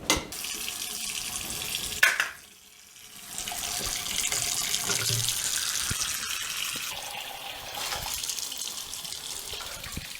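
Tap water runs steadily over dirty parts from an AT&T Globalyst 630 computer, a loud, continuous splashing gush with a brief drop in flow partway through, then steady running again.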